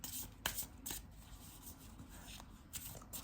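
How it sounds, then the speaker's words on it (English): Tarot cards being shuffled by hand, with soft riffling and a few sharper card snaps at irregular intervals, close up and quiet, with no talking. "let's pull 3 cards for advices"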